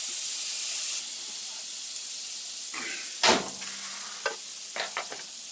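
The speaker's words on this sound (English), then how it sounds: "I melted the butter" Butter melting in a pan on the stove for sausage gravy gives a steady, moderately loud sizzling hiss throughout, with a few sharp clinks and stirring scrapes in the second half.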